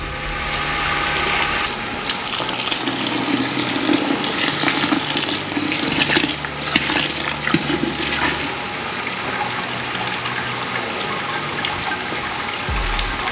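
Liquid pours steadily onto a mash during a weizenbock beer brewing session, a continuous splashing rush with faint mechanical clicking underneath, fairly close and without talk.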